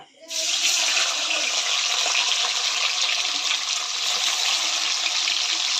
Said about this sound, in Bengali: তেলটা গরম হলে পনিরটা দেবো গরম হয়ে গেছে এবার পনিরটা অল্প অল্প করে ভেজে নেবো